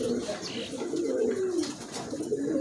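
Several pigeons of a fine, slim-bodied breed with feathered feet coo continuously at close range, soft low rolling calls overlapping one another, with faint higher chirps scattered above.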